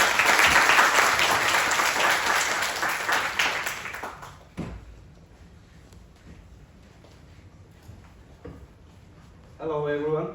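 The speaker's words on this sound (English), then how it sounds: "let's have a round of applause to welcome Professor Choo." An audience at a smart tourism conference applauds to welcome a professor, loud sustained clapping that fades out after about four seconds, leaving a quiet hall and a brief voice at the end.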